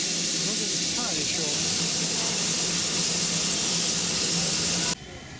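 A small steam locomotive on the Darjeeling Himalayan Railway releases a loud, steady hiss of steam close by, continuing for about five seconds before cutting off abruptly, with a voice speaking briefly over it.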